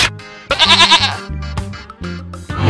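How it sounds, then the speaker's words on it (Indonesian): A goat bleats in a village setting in rural Sunda, a loud wavering cry up close, followed by shorter bleats and rustling. "Kambing."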